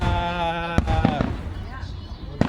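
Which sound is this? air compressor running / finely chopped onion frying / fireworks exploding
fireworks exploding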